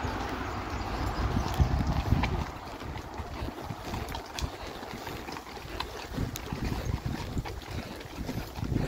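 Horses trotting uphill on a wooded trail ride, hooves clip-clopping in a steady irregular patter under constant wind buffeting the microphone, with no talking.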